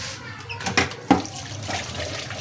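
Running tap water rinsing an oily cooking pot in a sink, steady splashing flow with a couple of louder clatters, close and without talk.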